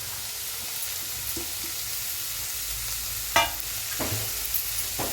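Finely chopped fenugreek leaves sauté in a pan with a soft, steady sizzle, stirred now and then, with a few brief scraping knocks near the end.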